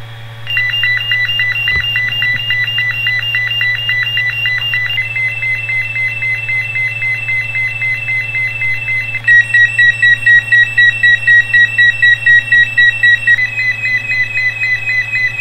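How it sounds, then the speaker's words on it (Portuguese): An electronic fire alarm rings loud and continuous, a rapid warbling electronic tone that shifts pitch a couple of times and turns into sharp repeated beeps near the end. "Som alarme de incêndio."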